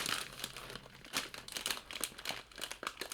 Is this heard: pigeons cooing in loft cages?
no